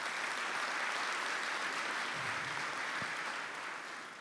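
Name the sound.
conference audience applause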